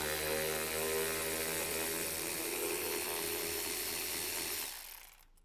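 Ratchet on a long extension backing out a screw from the air filter box of a 2019 Sierra/Silverado 6.2L, a steady close mechanical whirring buzz that runs for several seconds and then cuts off.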